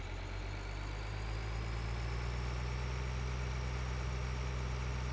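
A tractor engine in Farming Simulator 2013 idles with a steady low rumble and drone, running evenly throughout with no speech.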